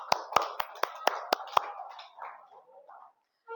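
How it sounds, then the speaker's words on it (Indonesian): Several sharp hand claps from a small group in a classroom, about six loud slaps in a quick rhythm over roughly a second and a half, then fading murmur and faint movement. "Kita tepuk tangan untuk diri kita masing-masing."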